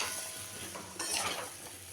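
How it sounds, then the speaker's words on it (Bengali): Flat beans and potatoes fry in a spice paste, giving a faint close sizzle with a brief louder scrape of stirring midway and no speech. "শিম আর আলুটা দিয়ে দিলাম। দিয়ে আমি এখন এটাকে কষাতে থাকবো।"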